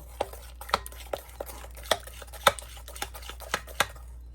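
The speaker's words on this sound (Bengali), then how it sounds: "এই যে তৈলটা দিয়ে আমি ভালোভাবে এখন মিশিয়ে নিব।" Oil being mixed into bakery-style crispy biscuit dough by hand, giving a string of light, irregular taps and scrapes against the bowl, close and fairly quiet, with no talking.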